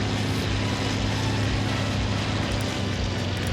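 A propeller aircraft engine drones in a flight combat video game, loud, close and steady throughout with no voices.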